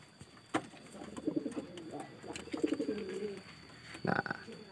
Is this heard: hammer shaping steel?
no